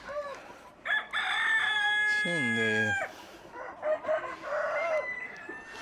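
Chickens on a farm, including a Brahma-cross hen, with a loud nearby rooster crow stretching over a couple of seconds amid ongoing clucking, and a voice speaking briefly.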